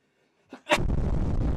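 A single sharp human sneeze, preceded by a short quick inhale, then gives way to a steady background hiss.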